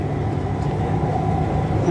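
An electric Bangkok Skytrain car rumbles steadily along its elevated track at the Kasetsart University terminus, a continuous low hum and rolling noise with no voices.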